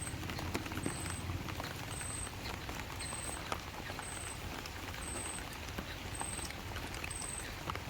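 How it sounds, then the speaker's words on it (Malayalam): Steady rain falling at night during net fishing, a dense continuous patter of drops close by with no talk. "മഴ മഴ"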